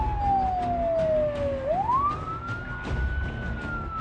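A wailing siren in the video game Project Zomboid sweeps down in pitch, then rises and holds a high tone, heard over background noise and faint clicking.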